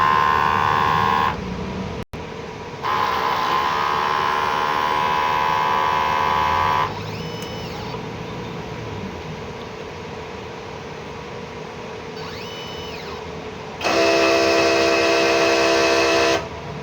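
A 60 cm DTF printer runs a head cleaning cycle, giving a steady loud mechanical whine and hum with pump and motor tones that rise, drop and shift between stages, heard up close with no speech.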